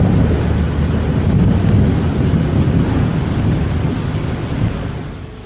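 Steady heavy rain roars close by with a rumble of thunder underneath, a dense unbroken wash that fades slightly toward the end, on the south coast of Central Sulawesi.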